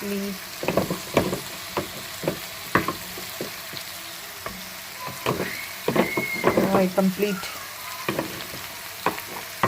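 Ginger garlic paste frying in a pan for fish gravy, with a steady sizzle and repeated clacks and scrapes of stirring, with bursts of louder activity midway.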